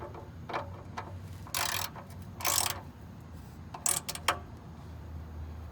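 A socket ratchet tightens the oil drain plug on a 1988 Chevy Blazer 5.7L, giving close, quiet bursts of rapid clicking in several short runs separated by pauses.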